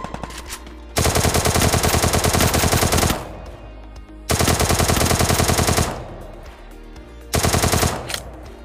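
A Thompson submachine gun fires in the video game Free Fire in three long, loud automatic bursts of rapid rattling shots. Short pauses with quieter background game sound separate the bursts, and no one talks.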